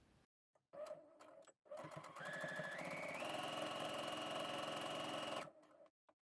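A home sewing machine runs an understitch close to the edge through three fabric layers, a few short whirring bursts followed by one steady run of about three seconds that rises in speed, then stops, in a quiet room.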